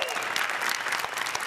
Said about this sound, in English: let's how about give them a round of applause